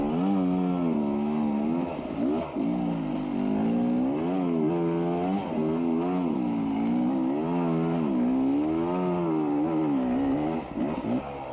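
A Kawasaki KLX dirt bike climbs a steep hill, its single engine revving hard and rising and falling in pitch with throttle changes as it labours upward, loud and close throughout.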